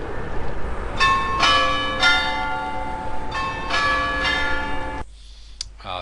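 Church bells ringing, played back from an outdoor noise measurement recording: several loud, ringing strikes in a steady pealing rhythm over a background hum, cutting off abruptly near the end.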